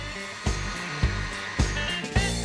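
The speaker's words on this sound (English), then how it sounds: "Whisk in all the sugar and keep mixing until the egg whites have cooled down." Sugar being whisked into warm egg whites for a meringue topping on cupcakes, heard as a steady, loud whirring drone with a regular bump about every half second as the beaters pass through the bowl.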